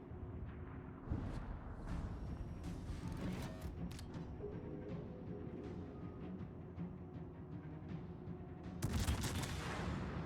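Nagato battleship's secondary guns keep firing in a World of Warships naval battle, a dense, steady rattle of rapid reports with louder bursts near the start and end, no talking.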